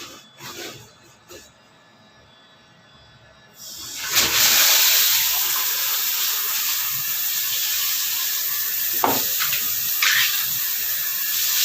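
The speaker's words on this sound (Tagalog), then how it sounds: "I-on natin tong tubig." Water from a newly installed shower head and hose bursts into a steady, loud hissing spray after a quieter start, continuing broadband and unbroken to the end.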